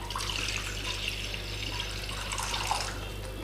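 Water runs steadily into a bowl being readied for soaking dahi vada, a continuous close splashing pour with light bubbling and no pauses.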